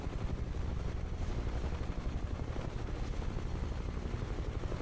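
A UH-1H Huey helicopter in Microsoft Flight Simulator gives a steady, loud rotor thump and turbine roar that holds evenly throughout with no speech.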